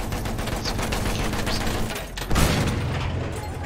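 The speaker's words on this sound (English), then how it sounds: "There's an enemy machine gun!" In Battlefield 1, an enemy machine gun keeps up a dense, continuous rattle of fire amid battle noise, with a heavier thump partway through and no break in the shooting.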